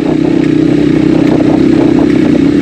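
Motorcycle riding along a newly cut rural dirt road in Pangasinan, its engine a loud steady close drone with light clattering and wind, no voices.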